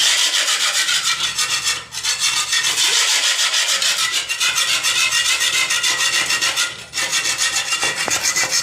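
Steady, loud scrubbing and rubbing on a surface to lift salt stains using soap oil, with continuous rasping strokes and only brief pauses.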